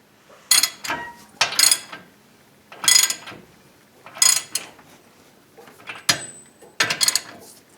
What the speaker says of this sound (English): Run the nut on the top. Run the nut on the bottom. And tighten these up.